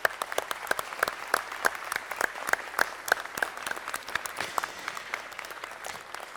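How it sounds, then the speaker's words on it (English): Scattered, fairly sparse applause at a city council meeting: distinct individual claps from a modest crowd ring out at moderate distance in a steady rhythm for several seconds, trailing off toward the end. "Let's give them a round of applause."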